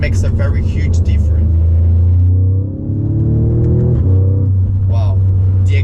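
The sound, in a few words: Audi S3 ABT exhaust revving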